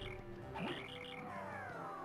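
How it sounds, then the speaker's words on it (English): A frog-like croaking buzzer repeats in rapid rasping bursts in the video game Paper Mario: The Thousand-Year Door, mixed in with game music. "No more frog. Or whatever that is, like a buzzer."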